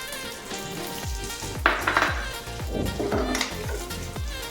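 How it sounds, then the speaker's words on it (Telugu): Vermicelli frying in ghee in a pan for badam kheer, with a steady bright sizzle and a rhythmic series of low scraping thuds as it is stirred, close and without talk. "నెయ్యిలోనే బాగా వేయించుకుందాం"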